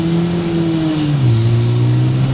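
An old, cheaply built Toyota mini pickup truck's engine drones loudly from inside the cab as it accelerates, its steady hum dropping in pitch partway through as it shifts.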